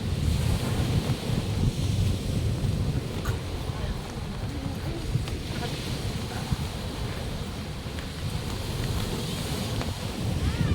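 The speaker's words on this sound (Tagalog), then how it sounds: "Ang alon." Ocean surf on a Zambales beach in the Philippines, a steady loud wash of breaking waves with wind buffeting the microphone throughout.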